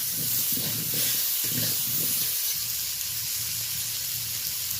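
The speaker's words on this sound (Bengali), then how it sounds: "ওই তেলেই আলুটা ভেজে নেব।" Potato strips frying in hot oil in a home kitchen pan, a steady close hiss and sizzle with short bursts of crackle early on, no voices.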